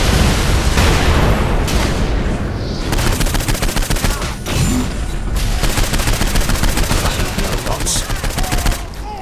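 Sustained rapid gunfire in Saints Row IV aimed at a robot ball, loud dense bursts of shots with booming impacts running almost nonstop, with no talk.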